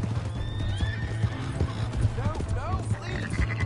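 A horse in the Western game Red Dead Redemption 2 gallops off with rapid clip-clop hoofbeats and repeated neighs and whinnies, loud and close, while excited voices shout over the action.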